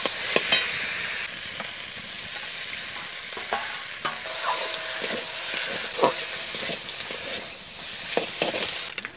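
Boiled eggs are stirred through spiced potatoes in a pan, giving repeated close scrapes and knocks of a spoon over a soft background sizzle, moderately loud, with no voices.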